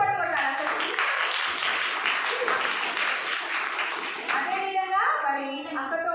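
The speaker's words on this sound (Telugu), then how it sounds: "గట్టి చప్పట్లు కొట్టాలి అసలు." Applause from a church audience at a children's Vacation Bible School final-day event, broad dense clapping sustained for several seconds before fading, with a few voices and a speaker briefly audible toward the end.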